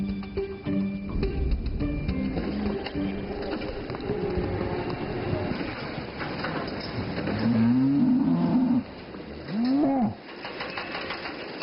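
A dairy cow on a farm moos twice near the end, loud and close, over a steady mechanical hum, with a brief swooping call just before a shorter second one.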